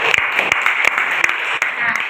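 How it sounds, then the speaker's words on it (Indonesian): A burst of applause from a small group, steady clapping throughout with a few sharper individual claps standing out. "Kita beri tepuk tangan dulu."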